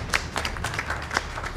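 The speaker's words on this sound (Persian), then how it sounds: "تشویقش میکنیم لطفا" Audience applause and hand claps for two players leaving a Mafia party game show, a scattering of distinct claps across a short stretch, moderately loud and fairly close, without voices over them.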